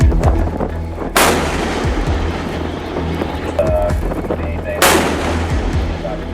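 Gunfire as a US force seizes an Iranian cargo ship in the Gulf of Oman, two heavy, booming blasts a few seconds apart over a rumbling background, with faint talk underneath.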